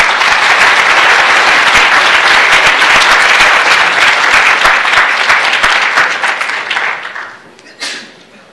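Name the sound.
audience applause at a pitch competition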